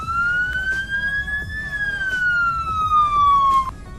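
A Roblox sheriff patrol car siren wails in one long slow sweep, rising then gradually falling, loud and close with faint background noise.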